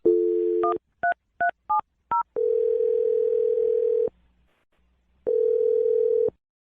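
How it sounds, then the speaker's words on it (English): A telephone dial tone cuts off into a quick series of touch-tone keypad beeps, then a steady tone sounds, falls silent briefly, and returns. The line is clear and close, with no talking. "I'm dialing the phone number now"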